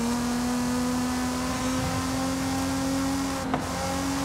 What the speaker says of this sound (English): I definitely did get the 350Z sound, like, on point with this car